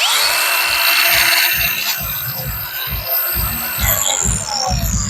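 Dongcheng DCSM03 cordless 125 mm angle grinder on a lithium-ion battery, winding up with a bright high whine over a pulsing low throb, running close and loud for several seconds.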